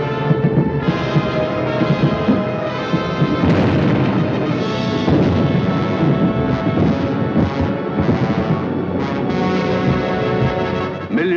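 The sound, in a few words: firebomb explosions during London bombing raid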